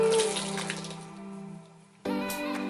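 Tap water running steadily into a sink while makeup brushes are rinsed, a continuous splashing stream that drops briefly and then surges back louder, no talking.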